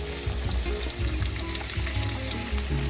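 Chopped onions frying in a pan with oil in a home kitchen: a steady, dense sizzle that holds at an even loudness throughout. A low hum sits under it, and no voices are heard.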